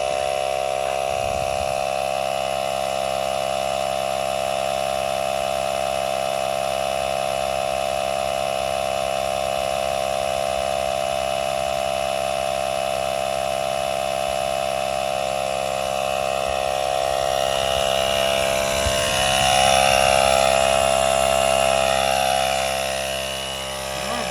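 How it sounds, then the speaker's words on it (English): A Ridgid 18V handheld digital inflator compressor runs continuously, a steady buzzing motor drone that holds level at close range and swells slightly louder near the end. "it's a little handheld pump."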